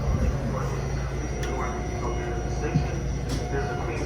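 A New York City subway train hums and rumbles steadily from inside the car, a loud continuous underground drone with faint clanks, while people talk quietly nearby.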